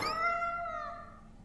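A cat in the video game Tales of Berseria gives a single drawn-out meow, falling in pitch and fading over about a second and a half, clear and alone over faint background hum.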